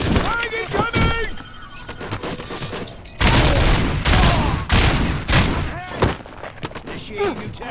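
Rapid bursts of gunfire and heavy booms fill a firefight in the game Robocop: Rogue City, loud and close, with short radio-style voice lines and electronic chirps between the volleys.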